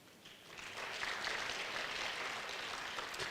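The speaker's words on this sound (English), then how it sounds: "We want to give a round of applause to the entire advisory committee" Applause from a national conference audience for an advisory committee on legal reform, a faint, distant wash of clapping that swells after a brief quieter start and then holds steady.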